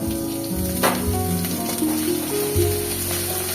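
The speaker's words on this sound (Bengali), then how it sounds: "পেঁয়াজটা ভাজা ভাজা হয়ে গেছে, এবার মশলা যে অ্যাড করে রেখেছিলাম সব সেটা দিয়ে দেবো।" Spices tipped into a pan of browned frying onions for a hariyali katla curry raise a loud, steady sizzle with a sharp burst near the start, close and continuous with no talking.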